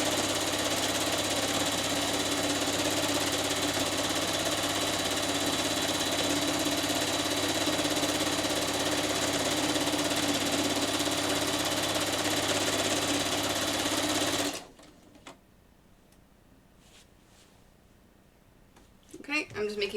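Sewing machine stitching through a quilt, a loud, steady mechanical hum and rattle running continuously for about fifteen seconds before cutting off abruptly, leaving quiet room noise with a few small clicks.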